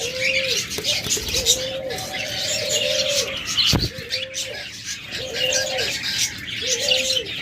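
Caged doves and pet birds such as budgerigars, cockatiels and lovebirds at a bird sale. Repeated soft, rolling coos are layered over constant busy chirping and tweeting, with a couple of short knocks.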